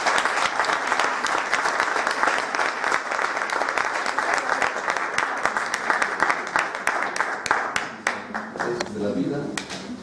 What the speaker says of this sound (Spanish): le damos un aplauso a Marilú